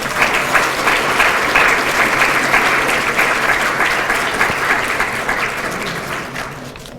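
A large audience at a university half-century reunion gives a loud, sustained round of applause, dense overlapping claps holding steady for several seconds before tapering slightly at the end.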